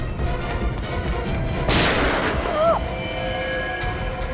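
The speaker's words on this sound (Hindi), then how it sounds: "बच्ची पे गोली चलाता है।" A single sharp gunshot cracks out in a Hindi CID TV drama scene, a loud broadband burst midway through, with background score and voices around it.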